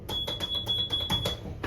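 A lift control panel beeps in a hydraulic Johns & Waygood passenger lift modernised by Otis, giving a quick run of repeated electronic pips with a sustained tone beneath, heard close over a low mechanical rumble.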